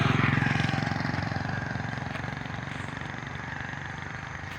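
A motorcycle rides along a road toward Bulwal, its engine a steady close drone with broadband rushing noise that stays loud throughout and eases off slightly.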